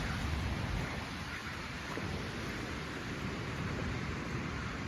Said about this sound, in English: all that water going straight into the Pacific.